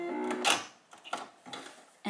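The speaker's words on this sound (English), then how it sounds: "And we're just gonna do a zigzag to just stitch it down." A sewing machine running a zigzag stitch on a fabric scrunchie, heard as several short, close mechanical whirring bursts separated by brief pauses.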